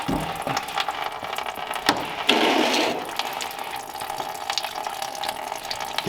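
Water pours and gushes out of a flathead engine being pulled from a 1939 Mercury coupe, a continuous splashing flow that swells briefly into a louder surge before settling back.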